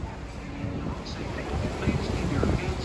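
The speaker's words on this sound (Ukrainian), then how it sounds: "Цей катер відправляється" Broad rumbling engine and water noise of a boat departing at Niagara Falls, with wind buffeting the microphone and a faint voice mixed in.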